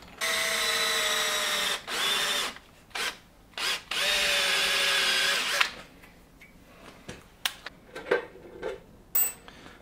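A power drill bores a pilot hole in an offcut of threaded steel bar, two loud whining runs of a few seconds each, followed by scattered clicks and handling clatter.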